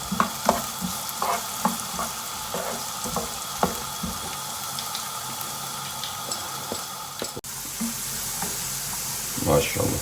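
Potatoes fry in a pan over high heat with a steady, close sizzle, broken by occasional scrapes and clinks of stirring and a voice talking.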